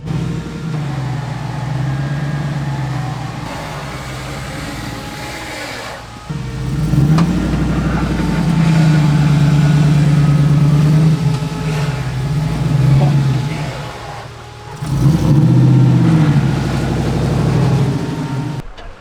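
A 4WD on 37-inch tyres crawls up a rough track, its engine droning low and then revving harder in a couple of sustained surges, fairly close and loud.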